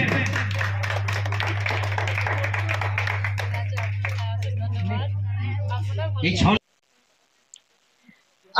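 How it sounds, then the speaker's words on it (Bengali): Audience at a Saraswati puja opening ceremony clapping, a steady rapid patter of many hands over a constant low hum before stopping abruptly into near silence. "আপনারা একটু করতলে হাততালি দেবেন"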